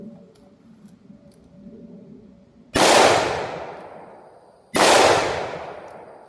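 A .357 Magnum revolver loaded with hollow-point rounds fires two loud, sharp shots about two seconds apart, each with a long, ringing decay that fades before the next, over a low background hum.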